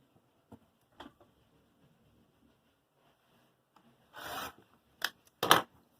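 Scissors or a cutter trimming linen cotton blend fabric for a face mask, a few soft crisp snips and rubbing scrapes, close and quiet with gaps between.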